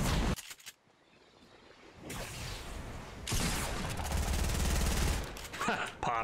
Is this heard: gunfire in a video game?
yes